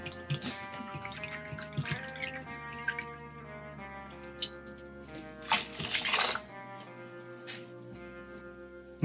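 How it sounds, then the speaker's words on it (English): Apple cider vinegar is poured into a pot for IPA pickles: a short splashing pour rises briefly midway, with light drips around it over soft background music. "There's our apple cider vinegar. Drop a cup of that in there."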